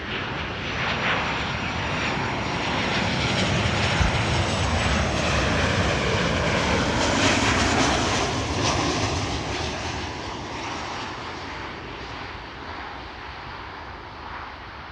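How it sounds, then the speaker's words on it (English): A KLM Boeing 737-700 airliner arriving from Paris roars steadily overhead, a loud, sustained jet engine rumble that swells slightly in the middle and then eases off as it passes. "KLM Flight 1404 arriving from Paris, 737-700"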